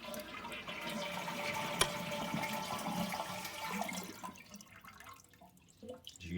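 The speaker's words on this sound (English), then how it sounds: "you're going to go ahead and flush the toilet and make sure all the water is out of here." A Kohler toilet with its supply valve shut is flushed, releasing a rushing, gurgling drain of water with a sharp clunk early on, tapering to faint trickles and drips as the tank empties.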